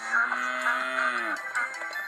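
A farmer's prize cow in a Thomas the Tank Engine episode lets out a single long, steady moo that sags in pitch at the end, followed by faint scattered noises.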